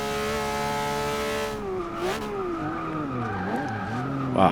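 Tires of a Porsche 911 GT3 RS 4.0 in Forza Motorsport 6 squeal in a long wavering screech over a racing engine that dips and climbs as the car skids through a turn.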